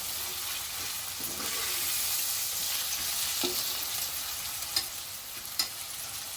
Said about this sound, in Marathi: घरगुती कोळी मसाला एक चमच तेलावरती मिक्स करून घ्यायचं आहे